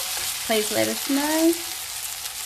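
Gnocchi sizzle in a pan with a steady, soft frying hiss that continues under a short stretch of close speech.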